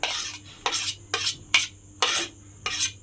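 Chopped onion, a medium onion diced very fine, being stirred into a pan, giving six scraping, rasping strokes of a utensil against the metal with short quiet gaps between them, close and clear.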